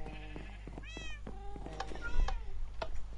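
Cats meowing in the Minecraft video game, several short rising and falling meows in close succession over a low steady hum, fairly clear and near.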